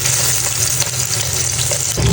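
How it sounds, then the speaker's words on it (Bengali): Taki fish fry in mustard oil in a pan, turned to cook the second side, giving a steady, close, crackling sizzle with no talk. "মাছগুলো এক পাশ ভাজা হয়ে গেছে, এখন আরেক পাশ ভেজে নিচ্ছি সুন্দর করে।"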